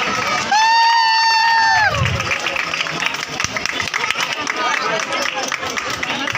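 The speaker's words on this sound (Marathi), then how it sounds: "त्यांना यायला जोरदार टाळ्या झाल्या पाहिजे" A crowd at a Navratri goddess-welcoming felicitation claps and cheers loudly after a brief whistle-like tone, a dense continuous wash of applause with shouting voices mixed in, close and full.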